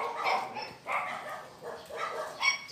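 Several neighbourhood puppies barking and yipping, heard as repeated close, excited barks in quick succession over about three seconds, with no talk.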